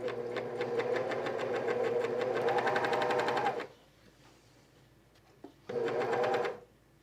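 A cover stitch sewing machine hems the back seam of leggings, a rapid steady mechanical whirr for several seconds, a pause with faint handling, then a shorter burst of stitching, close up and without speech.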